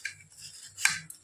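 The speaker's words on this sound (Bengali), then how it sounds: "এই যে নলেন গুড়টা আমি কেটে কেটে নিচ্ছি" A knife cuts through a block of nolen gur, date palm jaggery, with a few short crisp scraping and tapping strokes on a board, close and fairly quiet.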